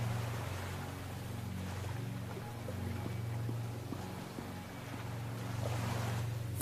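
Ocean waves wash in a soft, steady rush, fairly faint and continuous, with a low rumbling undertone and gentle swells in loudness rather than distinct breaks.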